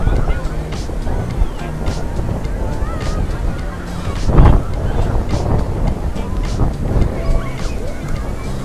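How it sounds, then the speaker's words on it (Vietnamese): Strong wind buffets the microphone at a crowded Vung Tau beach during Tet 2024, a loud continuous rush with gusts and surf underneath. "Tại vì gió rất là lớn."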